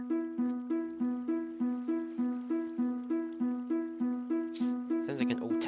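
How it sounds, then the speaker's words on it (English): A Minecraft alarm that sounds like an old-timey ambulance siren plays a steady two-tone rise and fall, repeating evenly about every 0.4 seconds. Near the end a brief clatter joins it. "Sounds like an old timey ambulance, doesn't it?"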